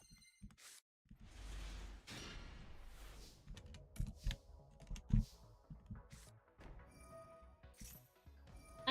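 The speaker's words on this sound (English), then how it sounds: "I'm typing with one hand." One-handed typing on a computer keyboard: scattered, irregular key clicks with soft rustling and a sharp knock partway through, fairly close and quiet, no talking.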